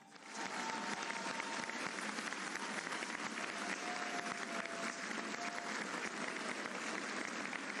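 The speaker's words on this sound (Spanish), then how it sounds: "a quien recibimos con fuerte aplauso" Sustained applause from a large audience welcoming the president of Mexico at a public event, a dense, even wash of clapping that rises quickly and holds steady throughout, heard from a distance.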